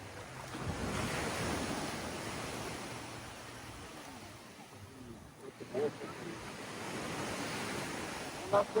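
Ocean waves wash up a beach on Boracay Island at high tide in strong wind, a steady broad roar of surf with wind that swells and eases, plus a few brief louder knocks near the end.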